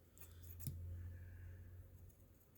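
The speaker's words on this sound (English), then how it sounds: "I go back and trim off anything that is hanging over" A single short scissor snip cutting through paper, quiet and close, followed by faint room noise.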